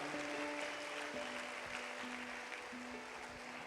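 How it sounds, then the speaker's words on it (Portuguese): A church congregation at a Wednesday service in Curitiba claps continuously, a dense, even wash of applause from a large crowd with a faint hum of sustained tones beneath it. "dê uma salva de palmas ao Senhor Jesus por isso"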